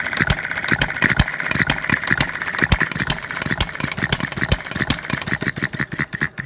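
A small scratch-built hit-and-miss model engine chugging close by with sharp, steady exhaust pops and a mechanical whine, running continuously at an even pace.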